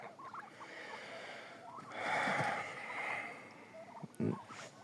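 Mammoth geese in an autumn enclosure give hoarse, honking calls and snorting bursts, a couple of louder swells midway and a sharp close cry near the end, over faint background chatter of birds.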